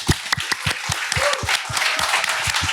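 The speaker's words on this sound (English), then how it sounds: "this like a huge amount of applause to you" Close, rhythmic hand clapping from a small group, steady and lively, with some voices cheering faintly underneath.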